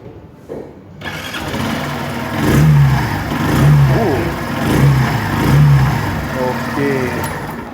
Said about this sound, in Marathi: आता मी तुम्हाला गाडीचा साऊंड ऐकवतो कसा येतो.